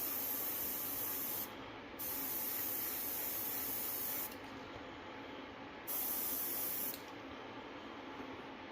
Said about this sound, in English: bring the overall bone color in with the airbrush